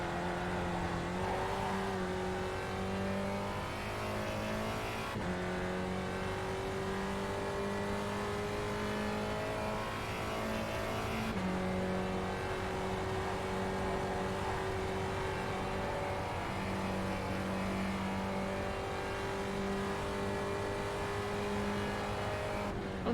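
Race car engines drone steadily throughout a race at Iowa in the iRacing video game, with a sustained, slowly shifting engine tone and brief pitch drops around gear changes, with no talking.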